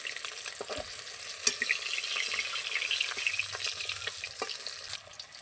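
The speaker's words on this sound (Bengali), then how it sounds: "মাছগুলো খুব বেশি লালচে রং ধরে ভাজবো না, হালকা করে ভেজে নেব।" Katla fish frying lightly in oil in a pan gives a steady, close sizzling hiss, with a few small pops and crackles scattered throughout and no voices.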